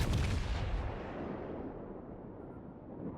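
In World of Warships, enemy ships fire their naval guns: a heavy, booming rumble rolls out and slowly decays, loud at first and then fading into a low sustained roar with no voices.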